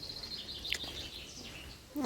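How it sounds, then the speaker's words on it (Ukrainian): Outdoor birdsong during a stop to fetch water: faint continuous high chirping and twittering with a sharper call partway through and a louder burst at the end, no talk. "Пташки співають як гарно."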